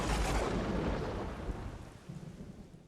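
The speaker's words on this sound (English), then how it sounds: "I like to get the perfect thunderstorm noise." A thunderstorm sound effect with a loud, deep rumble of thunder that slowly fades into steady rain hiss, without any voices.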